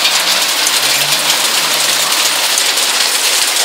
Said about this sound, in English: It's like solid, hard-hitting hail.